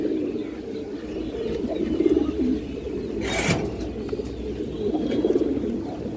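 Pigeons cooing nearby: low, soft, rolling coos repeat in slow waves over a faint background hiss, with one brief rustle of wings or feathers midway and no voices.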